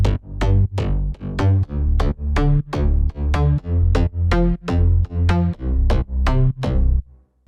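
Layered deep house bass sounds, sub-bass included, play in a steady rhythmic pattern of about a dozen punchy, loud pulses that stop abruptly near the end.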